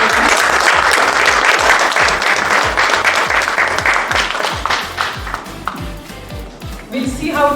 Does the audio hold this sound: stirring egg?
no